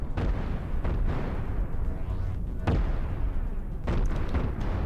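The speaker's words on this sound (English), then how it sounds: "once this reactor gets hit, it goes boom" In the space game Cosmoteer, a ship reactor explodes amid a loud, continuous barrage of booming blasts and bursts, with heavy rumbling throughout.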